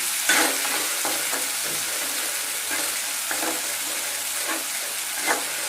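Steady, loud sizzling of masala frying in a hot kadai for a fish curry with kasuri methi, with occasional stirring scrapes, close up and without speech.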